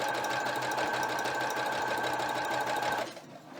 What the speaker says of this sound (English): we're going to sew till we get to this point on this pin.